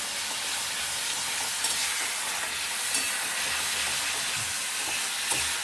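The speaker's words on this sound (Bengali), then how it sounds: "ওটাকে ভালো করে ভেজে নিয়েছি যাতে মশলা থেকে তেলটা খেয়ে দেয় ভালো করে" Masala frying in oil for soybean kofta curry gives a constant, close hiss and sizzle with occasional faint pops and stirring scrapes, with no one talking.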